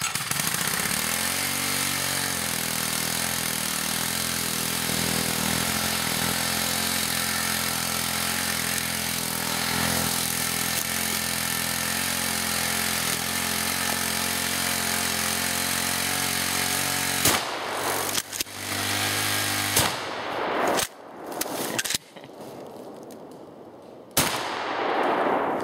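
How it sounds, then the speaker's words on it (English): A running engine hit by slug gun fire: a loud, steady engine drone for most of the time, then sharp heavy shots and the motor sputtering and cutting out in ragged bursts. "And that's how you shoot a running motor with a slug gun."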